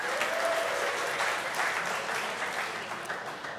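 A room full of listeners claps in response to a show-of-hands style question, a dense burst of applause that starts strong and gradually thins and fades over a few seconds.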